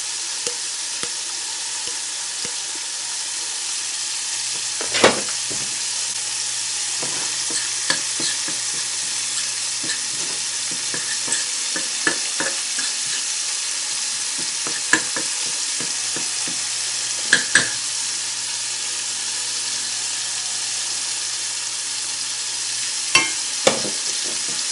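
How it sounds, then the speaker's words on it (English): A roux cooks in a pan, a steady low sizzle running throughout with occasional sharp spoon taps and scrapes against the pan, close up with no talking. "You know what I'm going to make? I'm going to make a roux."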